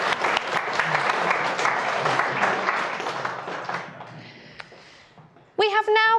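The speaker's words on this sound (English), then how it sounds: "Can I have a round of applause?" Applause for newlyweds at a wedding ceremony: a dense, steady burst of clapping from the gathered guests that gradually thins and fades, ending with a voice speaking.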